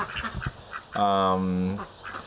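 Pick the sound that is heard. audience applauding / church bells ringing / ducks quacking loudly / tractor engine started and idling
ducks quacking loudly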